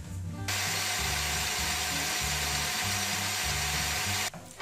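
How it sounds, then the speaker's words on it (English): A handheld electric mixer whirs steadily as it beats egg yolks in a bowl for cake batter, a loud continuous motor drone running about four seconds before cutting off. "now I'm going to mix the egg yolks a little bit with the electric mixer"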